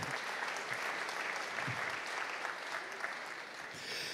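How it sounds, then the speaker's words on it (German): An audience at the re:publica 2013 conference in Berlin applauds. The clapping is dense and steady and lasts the whole stretch at an even level, with no one speaking over it. "Mit, ja, kleiner Applaus."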